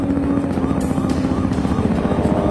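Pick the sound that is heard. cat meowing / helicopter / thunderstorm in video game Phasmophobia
helicopter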